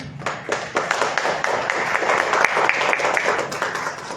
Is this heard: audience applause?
yes